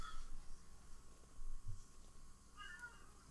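A cat meowing from a video game, faint and brief, a couple of soft cries over a quiet background hiss.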